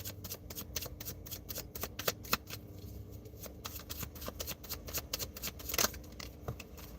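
Tarot cards are shuffled in a rapid run of crisp riffling flicks, steady and close, with a brief louder rustle near the end.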